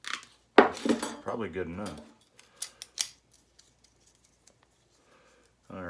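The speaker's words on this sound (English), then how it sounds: "So there, I'm going to cut that" Scissors snip material to size for a beekeeping sugar roll kit: a few crisp, close cuts with small metallic clicks and rustling. A person speaks briefly before and after the cutting.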